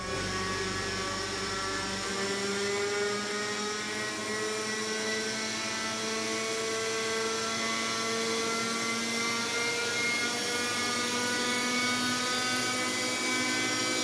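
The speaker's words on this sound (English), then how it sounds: "returns with his own model chopper" A small remote-controlled model helicopter hovers with a steady, high-pitched whine and buzzing rotor drone that holds constant and close throughout, with no voices.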